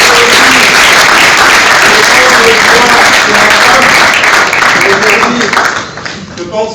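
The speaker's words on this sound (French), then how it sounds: "sous vos applaudissements, nous allons inviter ici Madame Mujinga Jory" Sustained loud applause from an audience at a French-language awards ceremony, steady dense clapping across the whole stretch, fading slightly at the end, with voices mixed in.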